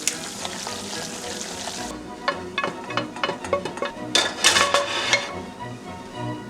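Meat is stirred into Kraft Dinner extra creamy macaroni in a pot, with a spoon scraping and clacking against the metal in quick irregular strokes over a soft sizzle, close and fairly loud.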